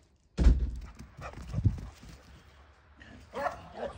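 A small pet dog barks at home, one loud, close bark followed by quieter yips and whimpers, with faint background noise and no talk.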